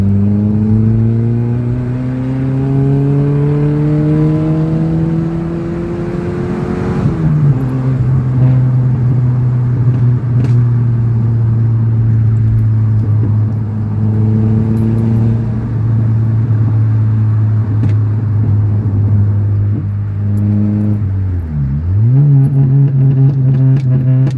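A car with a 1.4 engine pulls hard in second gear at full throttle, its rising engine drone loud and close, then steadies after a shift before one more dip and climb.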